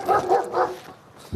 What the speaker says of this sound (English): dog handler Brad and trusty hound Piper